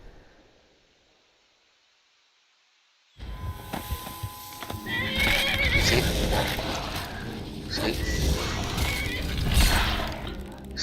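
A horse in the Skyrim video game neighs amid busy in-game action, a loud burst of clattering, crashing effects and movement that starts abruptly after a few seconds of near silence.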